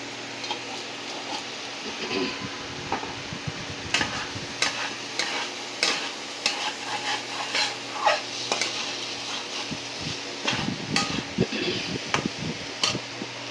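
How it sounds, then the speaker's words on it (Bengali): Food being stirred with spices in a pan, with repeated scraping strokes of a utensil over a soft sizzle and a low steady hum. "একটু নাড়িয়ে নিচ্ছি"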